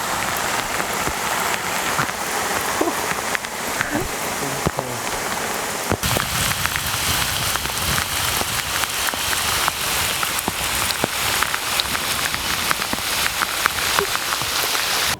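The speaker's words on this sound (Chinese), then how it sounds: "下大雨了" Heavy rain pours steadily on a tea plantation, a dense, loud hiss of drops with occasional sharper splatters and no voices.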